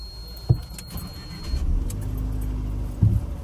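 A car pulls away, a thump like a door closing, then a low steady engine rumble building as it moves off, with another knock near the end; fairly close, no talk.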